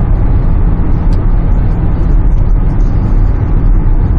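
A Hyundai Santa Fe DM diesel SUV pulls hard under acceleration, a steady, loud, dense engine and road rumble that holds evenly throughout with no pauses.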